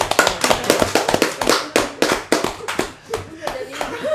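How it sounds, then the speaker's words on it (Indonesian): A small group of people at a talk show claps their hands in a short burst of sharp, close, uneven claps, with voices talking underneath. "Tepuk tangan dulu."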